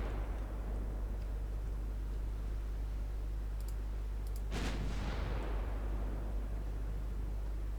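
Naval guns fire in Ultimate Admiral: Dreadnoughts, a single distant boom with a trailing rumble over steady low background noise, preceded by faint clicks.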